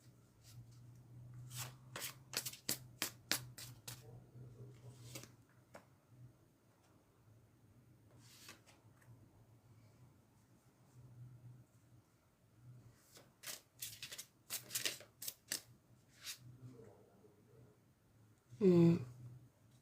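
Tarot-style romance and love cards are shuffled by hand in several quick, soft bursts separated by quiet pauses, with a faint voice briefly heard near the end.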